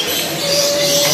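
Birds in the Lembang Park & Zoo aviary fill the air with a steady wash of calls, one thin whistling note held clearly above the busy, close chatter, with no talk.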